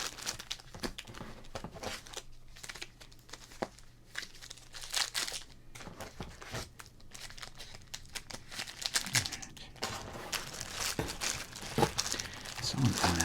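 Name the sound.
opening wrapped packs of 1986 Donruss sports cards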